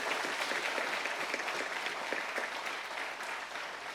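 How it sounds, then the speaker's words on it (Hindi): An audience at a Buddhist music program claps in a thick, fairly quiet wash of applause that stays steady and then eases off slightly toward the end. "बहुत सारी तालियां होनी चाहिए"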